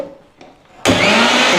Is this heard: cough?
no